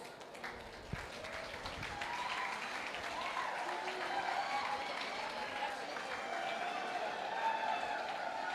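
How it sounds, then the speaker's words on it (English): An audience at a Dr. B.R. Ambedkar birth anniversary event breaks into sustained applause, a steady wash of clapping hands that swells and holds for several seconds at a moderate distance. "Sir, we invite you with a huge round of applause."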